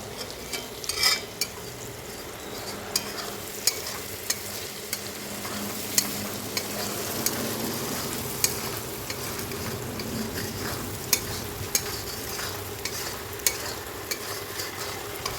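Spices of salt, turmeric, cumin, coriander, sugar and Kashmiri chilli stir-fried with jackfruit in goat fat, a constant sizzle broken by repeated sharp spatula scrapes and taps against the pan, close with no talking.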